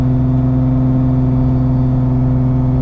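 A car with a full exhaust pulls steadily under acceleration in third gear, a smooth, sustained low hum with a constant droning tone and no voices.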